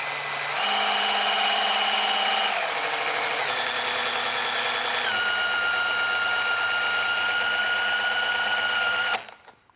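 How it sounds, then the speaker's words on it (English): A drill turns the nut on a quick-drop trailer tongue jack to retract it, a loud steady whine that shifts pitch in steps as the load changes, then stops abruptly. "simply taking your drill, you're going to want to put it right on the nut"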